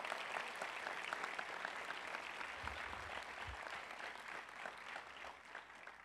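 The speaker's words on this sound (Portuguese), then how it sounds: "Dá um aplauso para Jesus." A church congregation claps together in a steady, dense round of applause, fairly distant and soft, continuous for several seconds with no voices over it.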